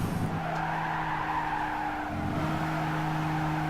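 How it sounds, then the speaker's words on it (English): A race car in Gran Turismo brakes hard into a corner, its tires squealing in a steady, sustained screech over the whine of the engine, loud and close, with no talk. "I'm going to brake just before now."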